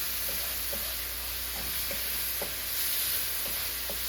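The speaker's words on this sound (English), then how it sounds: "Let me give this a stir real quick" A spoon stirring baby bok choy with fried chili oil in a hot pan, steady soft sizzle under a series of light, evenly spaced scraping taps, close and fairly quiet.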